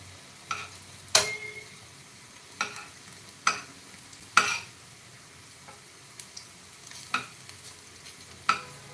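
Dhoka lentil cakes frying in a pan, with a quiet sizzle broken by sharp, irregular clicks and scrapes as they are turned, about a dozen brief knocks spread unevenly across the stretch.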